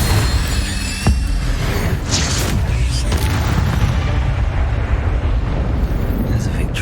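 Incendio fire spell cast in the video game Hogwarts Legacy: a loud, booming whoosh of flame with crackling bursts that fills the whole clip in the middle of combat.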